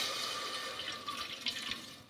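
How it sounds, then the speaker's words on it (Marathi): A bowl of water is poured into a pot sitting on a lit wood-fired stove, giving a faint, steady trickle and light splashing with no voices. "त्याच्यात आपण एक वाटी अंदाजाने पाणी ओतूया"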